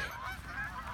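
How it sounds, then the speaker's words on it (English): Geese honk repeatedly in a noisy, overlapping chorus, loud and close, with no talking. "We're herding geese."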